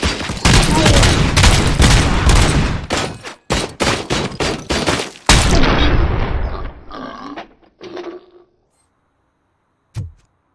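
Dense, loud gunfire and heavy bursts in the RoboCop video game, sustained for several seconds and then breaking into choppy volleys before trailing off, with one last isolated thump after a pause.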